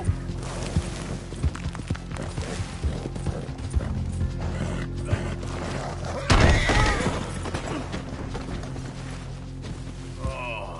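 Horse hooves clip-clop in a steady galloping rhythm within a PS4 video game, mixed with mechanical clatter and a brief louder burst midway, while a voice talks over it.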